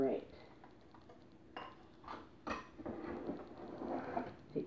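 Pancake batter for two-ingredient pancakes being mixed in a bowl, close and fairly quiet, with irregular utensil scrapes and clinks against the bowl building toward the end.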